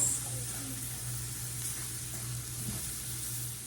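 Carrots and celery sizzle as they go into a pan of frying onions, a steady soft hiss close by with a low hum underneath and no talking.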